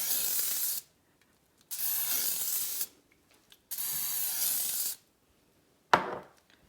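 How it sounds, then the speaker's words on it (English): Three long hissing bursts of aerosol butter spray into a bowl, each about a second, separated by quiet pauses, then a short sharp knock at the end. "Just gonna put some spray butter in here."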